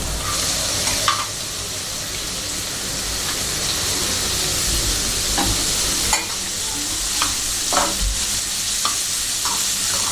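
Vegetables with carrots for fried rice are stir-fried in a wide pan, producing a loud, continuous sizzle broken by repeated sharp scrapes and clatters of the stirring spoon.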